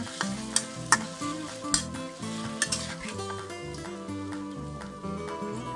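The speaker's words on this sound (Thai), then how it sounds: "ผัดทุกอย่างรวมกันนะคะ ปรุงรสตามชอบเลยพริกไทยหน่อยผัดแห้งๆนะคะ" Homemade tofu is stir-fried dry with seasoning and pepper, with close spatula scrapes and taps over a light sizzle. Music plays throughout, partly covering the cooking.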